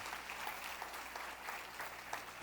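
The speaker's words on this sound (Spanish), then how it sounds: "Dale un aplauso a esa palabra, dale un aplauso." A church congregation applauds during a Spanish-language sermon, giving steady sustained clapping at moderate distance with no voice over it, ending in a sharp close knock.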